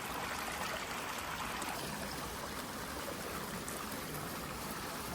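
Quiet, steady babble of a running stream on the Appalachian Trail near Springer Mountain, continuous and fairly faint, with no voices.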